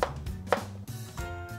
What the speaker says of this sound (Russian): Остальное режем вот такими вот перышками.